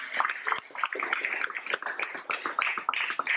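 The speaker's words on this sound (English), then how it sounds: "Can you give them a big round of applause, please?" A crowd at a Dallas Vyasa Puja gathering bursts into a dense, steady round of applause, many hands clapping at once throughout the few seconds with no pause.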